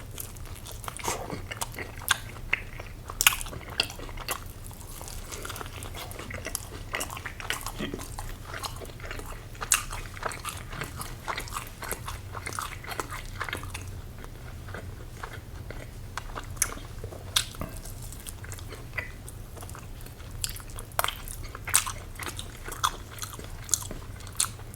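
Close-up ASMR eating of hot wings, with crisp bites and wet chewing and crunching repeating throughout, soft and near over a low steady background hum.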